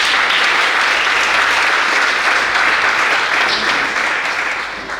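Sustained applause from a church congregation acclaiming the Lord, loud, dense and steady for several seconds before easing slightly at the end, with no voices over it.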